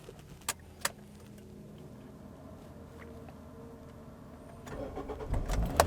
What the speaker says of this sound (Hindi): मैं गाड़ी को फाइनली जो है स्टार्ट कर लेता हूँ